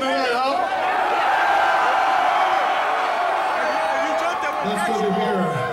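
A crowd at a Cannibal Corpse death metal concert in Santa Ana, California roars and cheers loudly and continuously, with whoops and shouts rising out of the mass of voices.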